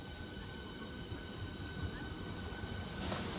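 A Southeastern high-speed service pulls away from Ebbsfleet International on HS1, giving a steady rolling rumble with a faint high whine. A brief burst of hiss swells at the end.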